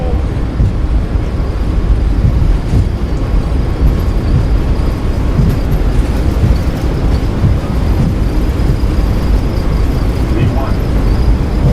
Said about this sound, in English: And takeoff power is set. We are rolling.